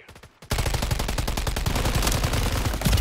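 Sustained automatic gunfire from Call of Duty gameplay hammers loudly and continuously after a short quieter opening, rapid shots running together into a dense burst.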